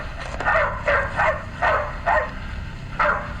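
Dogs bark outdoors in a run of six sharp, evenly spaced barks, loud and close with slight yelping edges and no voices between them.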